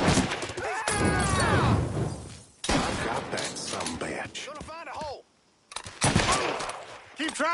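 Gunfire in a PS4 video game, bursts of rapid shots crackling under loud, excited voices of players talking and shouting over each other, with a brief near-silent gap.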